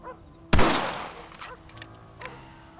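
A single loud rifle shot cracks in Red Dead Redemption, its echo trailing off over about a second, followed by a few faint clicks and knocks.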